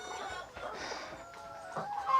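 Several chickens cluck in a poultry house with a steady, close flock chatter and a few louder squawks.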